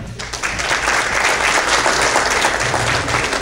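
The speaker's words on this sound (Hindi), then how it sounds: "आप सबकी पुरजोश तालियों में" Enthusiastic audience applause at an international mushaira poetry gathering in Richardson, Texas, loud, full clapping from a large crowd that holds steady throughout, with no speech over it.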